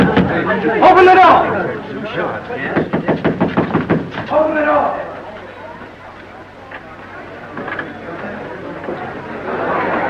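Rapid burst of loud knocks pounding on a door, about a dozen blows in quick rhythm amid talking voices in a 1934 mystery film scene, with a murmuring crowd and quieter speech afterward.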